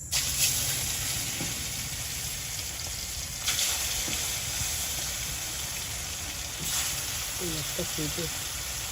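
Pond pangas fish pieces, coated with turmeric and salt, frying in oil in a pan, a continuous loud sizzle with a few sharper spitting bursts, near, with brief voice sounds toward the end.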